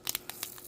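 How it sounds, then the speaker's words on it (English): Sticker sheet packaging for a Beyblade model kit is crumpled close up, a quiet series of short crinkling and tearing rustles. "as I crumple things and mess around with stuff too harshly"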